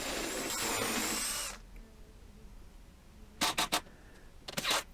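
A power drill pre-drills holes in a plywood backing panel while an old TV unit is rebuilt into a dresser: one long loud whirring run up close, then after a pause a few short bursts and a final pair of brief whirs.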